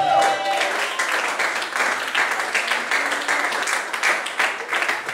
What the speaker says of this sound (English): Give Jesus a big clap of the hand.